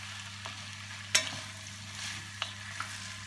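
Diced beef being stirred into half-cooked onions in a cooking pot, a soft scraping and sizzling with a sharp clatter near the start and a few lighter knocks, steady frying hiss underneath, no talk.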